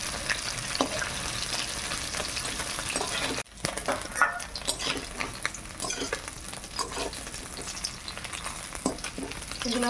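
Small fish fry in oil in a pan over a village cooking fire, a steady crackling sizzle with stirring scrapes, briefly dropping out before resuming with clattering spatula strokes.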